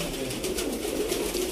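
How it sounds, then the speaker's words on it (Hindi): A Sialkoti pigeon gives a brief, low, soft coo, close by, against a steady background hiss. "बहुत ही नायाब कबूतर है दोस्तों"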